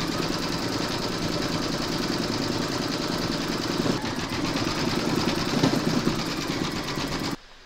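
An embroidery machine stitches a paws coaster design in yellow gold thread, a close, continuous mechanical whir with rapid needle chatter that runs for several seconds and then stops abruptly.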